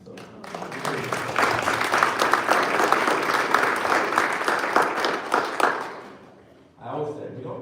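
A church congregation at St. Philip's Episcopal Church in Rochester, Michigan, applauds families, with steady, full clapping that carries for about six seconds, then fades and gives way to a voice.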